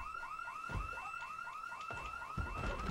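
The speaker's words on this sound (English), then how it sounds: "Alarm." A car alarm blares in the Project Zomboid video game, a loud repeating warble of rising whoops cycling steadily, with a few low thuds underneath.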